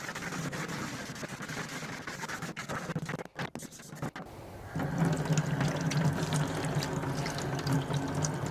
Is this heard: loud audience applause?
no